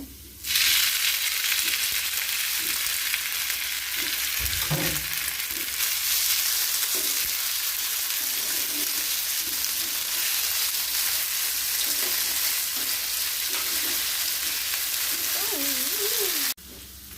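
Onion and noodles sizzle steadily in hot oil in a pan, a loud continuous frying hiss that starts abruptly and runs unbroken, with occasional soft stirring clinks and brief faint talk underneath.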